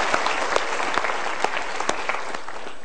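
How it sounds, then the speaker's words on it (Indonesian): A studio audience at a motivational talk show applauds loudly and continuously, with a few sharper individual claps standing out near the front. "kita berikan tepuk tangan untuk Mas Heri."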